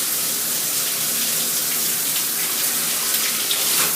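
A shower head running on its combination spray and massage setting, a steady close hiss of water that carries evenly from start to finish with no talk.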